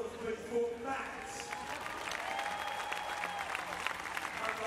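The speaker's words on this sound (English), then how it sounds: "let's give a big round of applause, please, for Matt." A large crowd at the 2012 London Paralympic Games wheelchair basketball arena applauds steadily, a dense continuous wash of clapping with cheering voices mixed in, sustained for several seconds.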